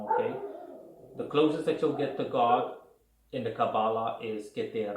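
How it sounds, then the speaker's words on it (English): Dogs barking in the background of an indoor talk about Kabbalah, several sharp yips and barks scattered under a man's continuous speech, moderately close and fairly loud. "I'm sorry for my dogs in the background"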